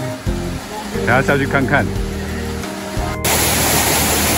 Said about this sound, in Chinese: 底下就是瀑布，看起来很大